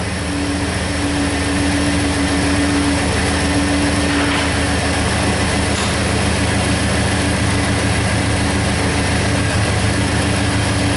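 A Chevy Tahoe engine being revved above 1,000 RPM, a steady loud drone with a low rumble that holds throughout, no voices over it.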